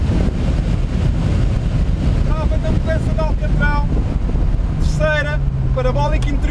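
A Lotus Elise Sport 220 on a track at full throttle, its engine droning loud and steady under heavy wind buffeting, with rising tonal sweeps as it pulls through the gears.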